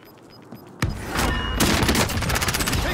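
Loud, close gunfire in a video game firefight: a sharp shot, then a dense burst of rapid overlapping shots that keeps rattling on without pause.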